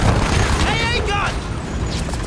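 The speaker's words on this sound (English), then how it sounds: "AA gun!" Anti-aircraft gun fire in Battlefield 1, heard from an aircraft: heavy, continuous booming and rumble, loud and close, with a shouting voice over it.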